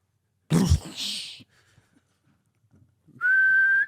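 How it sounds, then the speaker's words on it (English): A single sharp whistle tone rises near the end of the clip after a brief cough-like vocal burst and some faint murmurs, steady and fairly loud, in a podcast conversation about swimming baths. "Then a whistle."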